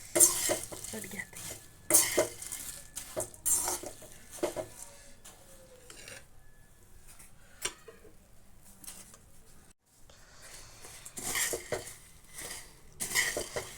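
Chivda snack being tossed and mixed in a kadhai, with irregular scraping and rattling bursts of the dry mixture against metal, louder at the start and end, and a faint background sizzle.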